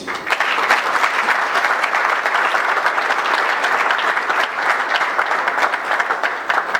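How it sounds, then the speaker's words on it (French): A conference audience breaks into steady, dense applause that fills the hall for several seconds, loud and sustained without a break, as a speaker is welcomed onto the stage. "sous vos applaudissements"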